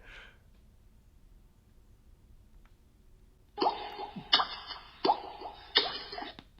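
A Havit E5 bike Bluetooth speaker powers on: a short chiming electronic jingle of several quick tonal notes plays after a few seconds of near silence, close and clear.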